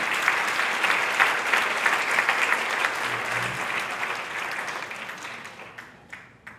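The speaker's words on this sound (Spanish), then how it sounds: "Dale ese fuerte aplauso." Sustained applause from a large crowd, loud and steady, thinning out toward the end.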